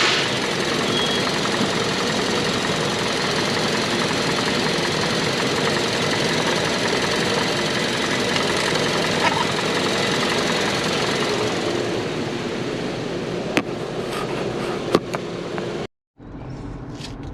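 A 2021 Hyundai Tucson's engine runs steadily on a test drive after a valve body harness and ECM replacement, a loud constant drone with road rumble, a few knocks near the end and a brief dropout.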